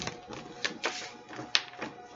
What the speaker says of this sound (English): Just shuffle them up a little bit.